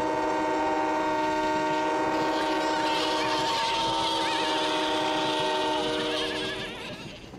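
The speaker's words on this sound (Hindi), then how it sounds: "इन भेड़ों को दूर भगा देते हैं अपने हॉर्न एक साथ बजाकर" Several cartoon trains sound their horns together in a long, loud, sustained harmonic chord that holds steady for about six seconds before fading slightly at the end.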